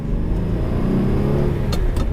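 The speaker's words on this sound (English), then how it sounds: "Being able to drive a net-aspirated supercar with a 6-speed manual." A naturally aspirated Lamborghini Murcielago V12 with a six-speed manual drones steadily while driving, a loud, continuous low engine rumble with a slight rise in pitch and no voices.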